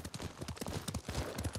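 Horse hooves clip-clopping in Ghost of Tsushima, a quick steady run of close, moderately loud hoof beats on the ground.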